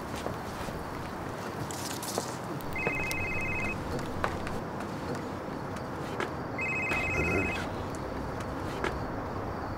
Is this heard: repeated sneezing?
no